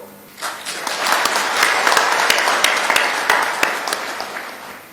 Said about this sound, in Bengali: এই হাততালি আপনাদের প্রাপ্য